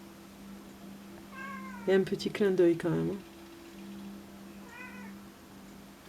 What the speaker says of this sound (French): Après vous entendez mon chat qui doit être attiré par...